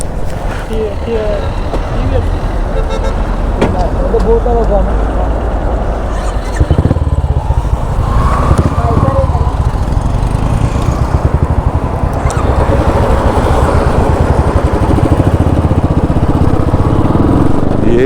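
Motorcycle engine droning steadily close by through the whole stretch on a ride, rising in intensity partway through, with faint voices occasionally under it.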